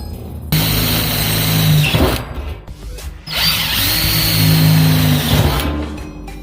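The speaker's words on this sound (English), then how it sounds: "And drill some 1/4-inch holes." A power drill boring 1/4-inch holes during a UDS rebuild, two sustained whining runs with a brief pause between them, loud and close with no voices.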